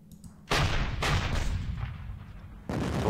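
Artillery fire in the wargame Panzer Battles North Africa 1941: a few heavy booming blasts with rumbling decay, the first starting about half a second in and another about a second later, then a fresh blast near the end.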